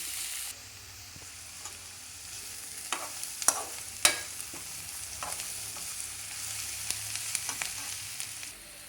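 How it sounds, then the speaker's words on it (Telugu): Onions and tubers fry in oil in a pan for a tamarind stew, giving a close, steady sizzle with sharp crackles and a few louder pops. No one speaks. "నూనె వేసుకున్నాను ఇప్పుడు ఇవి ఇందులో వేసేస్తున్నాను ఇది ఇలా వేయించుకుని"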